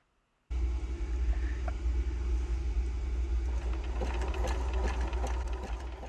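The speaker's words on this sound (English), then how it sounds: "now I'm back to the sewing machine, and I took out my Bernina, which does do a zigzag stitch" Bernina sewing machine running a zigzag stitch on jeans, a steady close mechanical whir with low rumble that starts abruptly after a brief silence and runs continuously.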